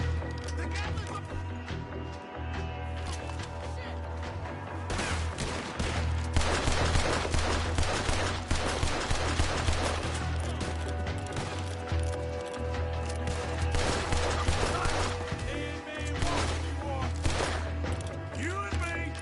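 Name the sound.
Gatling gun firing in a video game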